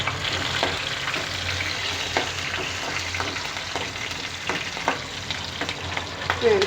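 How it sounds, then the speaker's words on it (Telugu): Dry red chilies and green chilies fry in a pan with a steady close sizzle and faint stirring ticks throughout. "ఎండుమిర్చి కూడా రెండు కలిపి వేసేసుకుంటాను ఒక సెకండ్ వేసి వేపుకుంటాను"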